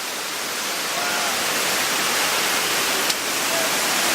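A partly frozen waterfall pours with a steady, close, broadband rushing hiss of falling water, constant and unbroken.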